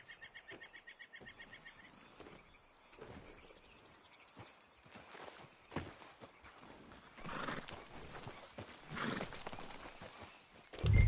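Horse hooves clip-clop in Red Dead Redemption 2, a quick regular rhythm at the start, then scattered footfalls, clattering movement and rising rumble as riding continues, ending in a louder thump.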